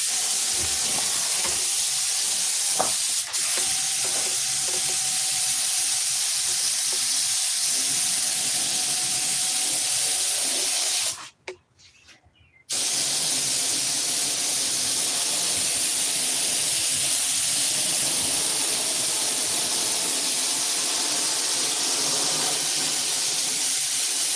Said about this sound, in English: That's the hose on the side.